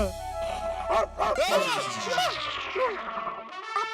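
Dog barks and yips come in bursts over music and a busy indoor scene in a Mumbai-set Hindi comedy episode, fairly close and loud.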